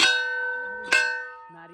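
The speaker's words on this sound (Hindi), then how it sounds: "ये भरे बजरंगबली घंटा बजाओ जोर से" A temple bell at Somnath temple is struck twice about a second apart, each hit ringing out loud and close with a long shimmering decay, followed by a brief voice.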